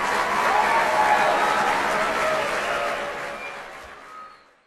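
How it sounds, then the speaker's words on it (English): Audience applause follows a call to cheer for an actress, a dense steady wash of clapping and crowd noise that holds loud for about four seconds before fading out, with a faint cheer riding on top. "give her a round of applause"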